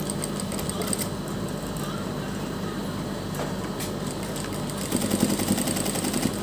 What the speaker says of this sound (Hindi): इस साइड भी हम सिलाई लगा लेंगे